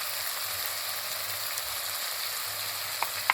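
Ground coriander, chili, salt and turmeric frying in oil for Bengali potol dorma, a steady soft sizzle close by with a couple of faint clicks near the end.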